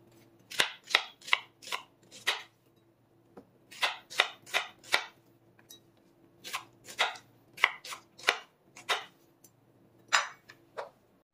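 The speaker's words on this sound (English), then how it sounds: "I finished chopping all my onions." A knife chops onions on a cutting board in quick bursts of three to five sharp taps, pausing between runs, close and clear over a faint hum.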